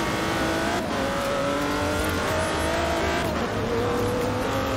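A Kia Stinger engine in Forza Horizon 4 drones steadily and loudly throughout, with rising and shifting revs and no talk over it.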